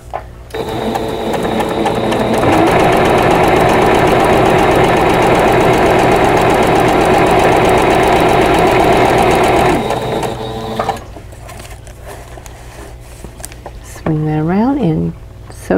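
A sewing machine set to a short 1.5 stitch length with 50 weight thread stitches a quilt block along dotted lines in one loud, steady run lasting about ten seconds, then stops, followed by a brief voice.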